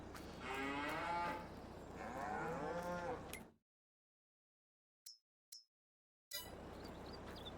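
Cattle in a barn moo in long, deep, drawn-out calls, two loud bellows up close, followed by near silence with a couple of brief clicks before the barn noise returns.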